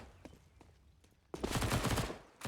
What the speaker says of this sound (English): Buster will line up a couple there with the MP9, so easy pickings